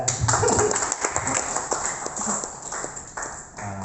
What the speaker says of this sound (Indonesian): Supaya semuanya tepuk tanganlah dulu.